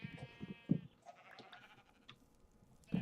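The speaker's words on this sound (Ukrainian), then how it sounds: "Вівці." Sheep in a video game bleat in short bursts, a couple of calls near the start and another at the end, with quiet game ambience in between.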